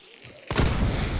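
A chaos bomb in the video game Hunt: Showdown sets off a sudden loud blast about halfway through after a quiet start, followed by a rattling burst of crackling pops.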